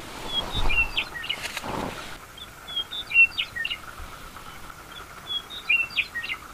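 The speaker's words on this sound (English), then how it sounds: "Well, I think one of them is the western meadowlark." Several birds, including a western meadowlark, sing in open Badlands country, with bright scattered chirps and whistled phrases repeating at moderate distance over a soft, faint background.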